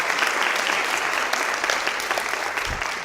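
A year-in-review event audience gives a brief, steady burst of applause: many hands clapping together at moderate loudness, with no voices over it.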